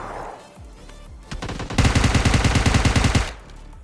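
Automatic gunfire in the mobile battle-royale game PUBG Mobile Lite: a sudden rapid burst of loud, close shots fires in a steady stutter for over a second, after a few scattered earlier shots.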